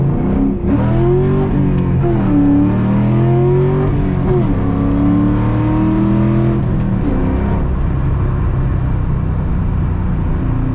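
A 2001 SVT Cobra with 4.10 gears pulls hard through the gears, its V8 roaring loud and close as the engine note climbs, drops at a shift and climbs again, with no talking.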